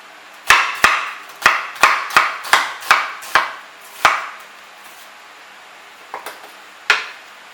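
Knife chopping onions on a cutting board, nine sharp even chops in quick succession, then a pause and a few softer scattered taps, close and clear with no talk.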